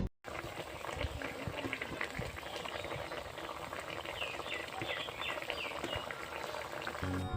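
Raw hilsa fish curry (ilish macher jhol) simmering under a lid on medium heat, a dense, steady bubbling and popping that continues without pause after a brief silent start.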